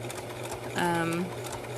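Sewing machine running a short burst while stitching a reusable coffee sleeve, a steady whirring buzz lasting about half a second at close range over low room hum.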